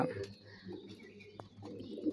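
Soft, low cooing of Bangladeshi Giribaz pigeons repeats in a short burst, fairly close, with faint background noise.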